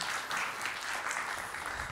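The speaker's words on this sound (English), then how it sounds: "if you can give him another round of applause" A conference audience applauding after a cybersecurity talk at AusCERT 2018, a steady wash of many hands clapping in a hall, moderately loud and unbroken, with no voices over it.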